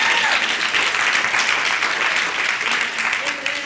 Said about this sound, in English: go down and clap for real right there